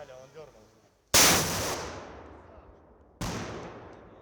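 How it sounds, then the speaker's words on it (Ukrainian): Two sharp, loud gunshots at a firearms training session in Orikhiv, Ukraine, about two seconds apart, each with a long echoing decay, after a moment of low background noise. "Постріл!"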